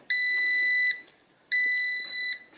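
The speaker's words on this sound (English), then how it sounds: "this thing started beeping" A car battery jump starter gives two long, shrill, high-pitched beeps, each about a second, separated by a short pause.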